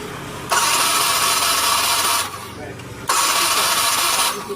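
A motorcycle engine converted from fuel injection to a carburetor with a Shogun CDI cranks and starts in two loud, sustained bursts separated by a brief drop, close to the microphone.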